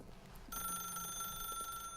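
Telephone ringing in The Stanley Parable, a steady electronic ring with bright sustained tones that starts abruptly after a half-second of quiet and holds loud and continuous.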